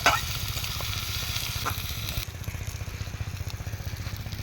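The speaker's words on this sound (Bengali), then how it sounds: "কাঁচা লঙ্কা পরিমাণ মতো হলুদ দিয়ে মশলাটাকে মিক্স করে ভেজে নেব" Turmeric, cumin powder and green chilli spice mix frying in a pan, a steady close sizzle with a crackling hiss and low bubbling throughout.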